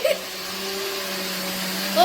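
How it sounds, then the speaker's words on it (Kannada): A mixer grinder whirs with a steady motorized hum, running continuously close by, with brief louder bursts at the start and end. "ಮಿಕ್ಸಿಯಲ್ಲಿ ಕಡಿತಿದ್ದಾರೆ."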